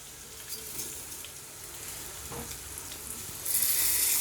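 Rice going into browning beef in a pot for pilau, a soft steady sizzle that swells louder near the end, with faint stirring and no voices.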